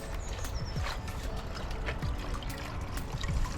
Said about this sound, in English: time to net the pond